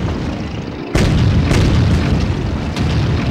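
A bomb goes off in the Madagascar game on PS2, a sudden loud boom about a second in that swells into a dense, sustained roar filling the rest of the clip.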